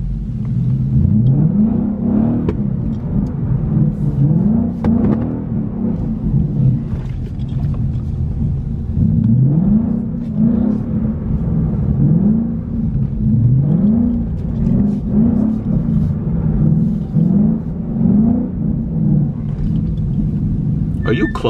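A 2015 Ford Mustang GT in first gear doing donuts, its engine rumbling loudly with repeated rising revs in a rough rhythm, heard from inside the car amid wind buffeting.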